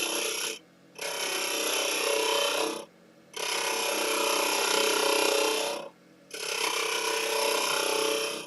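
Wood being hollowed on a lathe, a continuous raspy cutting hiss in three long passes separated by short pauses, close and fairly loud, with no voices.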